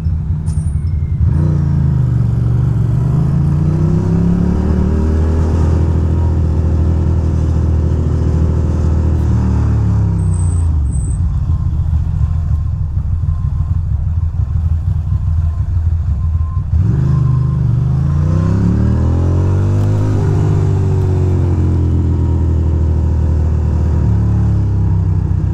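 A Ducati motorcycle rides through traffic between Manhattan and Brooklyn, its loud, close engine droning continuously and rising in pitch during two clear accelerations.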